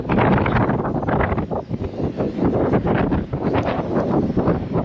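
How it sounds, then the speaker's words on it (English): Strong wind in Texas buffeting the microphone, a loud continuous roar that swells and dips in gusts. "And it is windy."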